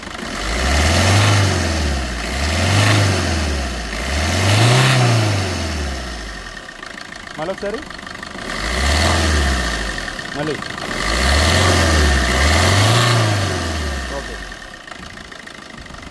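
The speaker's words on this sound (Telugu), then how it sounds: "ఒకసారి యాక్సిలేటర్ ఇవ్వమా" A 2016 Swift Dzire VDI diesel engine revs repeatedly, its note swelling and falling in five or six close, loud bursts with a brief pause between, as someone speaks briefly.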